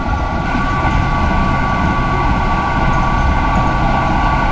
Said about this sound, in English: They're sticking your head outside of a train at 280 km an hour.